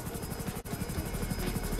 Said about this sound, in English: use the hunter helicopter